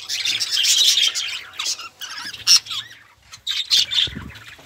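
Budgerigars chirp and chatter in a colony aviary, dense overlapping tweets and squawks up close with brief wing flutters and short pauses.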